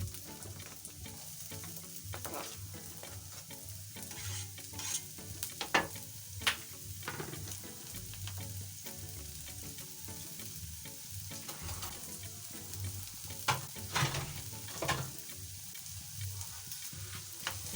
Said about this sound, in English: So neka enough oil ya kuivisha kitunguu chetu